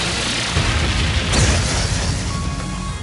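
The Prionac weapon in Trails of Cold Steel 3 fires with a heavy booming explosion, a sustained roaring blast with a swelling rush near the middle that trails off into a dull rumble.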